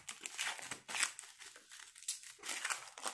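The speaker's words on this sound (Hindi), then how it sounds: "तो मैं इसकी टेपिंग को भी ओपन कर लेता हूँ" Sticky tape being pulled and torn open on a credit card package wrapper, in short crinkly bursts of rustling and ripping, close and fairly quiet, with no talking.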